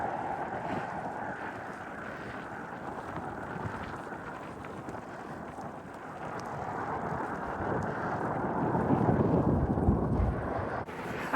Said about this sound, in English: Unfortunately, I've got a headwind and it's making my face pretty chilly.